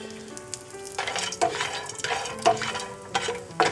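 Roasted cashews sauté briefly in a hot pan, a steady sizzle broken by several sharp stirring scrapes and clinks at regular intervals, close and moderately loud with no talking.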